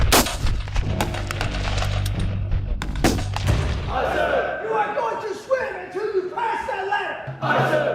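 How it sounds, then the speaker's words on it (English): Rifle gunfire on a Marine Corps boot camp training range: several loud, sharp shots and rapid bursts in the first few seconds, then lighter, more distant firing with voices talking underneath. "What it is to sit behind a rifle, look down that barrel, and be able to put lead on target."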